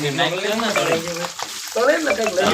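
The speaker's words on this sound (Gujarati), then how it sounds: "આ મરચા છે બંને તળવા નાખી દીધા છે" Green chillies sizzle and crackle in hot oil in a home kitchen while bhajiya are prepared, a continuous close frying hiss running under a voice talking through most of it.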